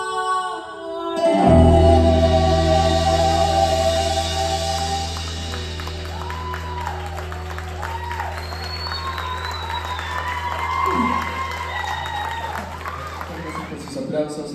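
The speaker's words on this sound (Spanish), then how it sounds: "Gracias por sus aplausos." A live Spanish-language concert crowd applauds and cheers as sustained closing notes of a performed song ring out, the clapping swelling loudly early on and continuing under a voice for the rest of the fourteen seconds.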